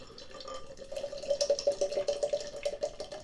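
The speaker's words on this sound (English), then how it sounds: "I'm going to pour it into a San Miguel glass." Grapefruit IPA beer poured into a San Miguel glass, a steady trickling stream with bubbly, dripping splashes that grow busier partway through, close and moderately quiet, no talking.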